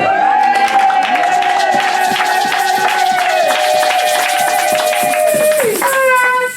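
Church congregation cheering and acclaiming during a French-language service, with loud sustained voices and whoops, clapping running through the whole stretch, and a held singing or shouting tone on top, the sound cutting off near the end.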